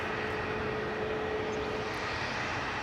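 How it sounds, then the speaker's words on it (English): Constant, moderately distant roar of an Airbus A320neo airliner arriving and taxiing at Amsterdam Schiphol airport, as a steady broadband rumble with a faint tonal whine and no voices. "Right, so A320neo arrived from Prague"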